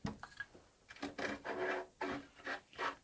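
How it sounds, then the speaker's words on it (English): A file scrapes the edges of a preamp opening cut into an acoustic guitar's wooden body, uneven rasping strokes in quick succession, close and quiet. "after smoothing out the edges and a small bit of extra filing"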